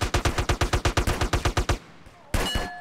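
Rapid gunfire: a quick, evenly spaced burst of about a dozen sharp, close shots, a short pause, then one more loud blast.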